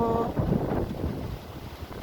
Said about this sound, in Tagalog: eto, malakas ang hangin